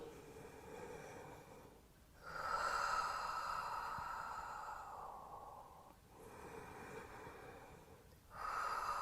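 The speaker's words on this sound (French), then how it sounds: "on dynamise encore les 3 dernières respirations" Forceful breaths during a thigh and glute workout come as long, strong rushes of air, roughly three close exhalations separated by short pauses, near and fairly loud.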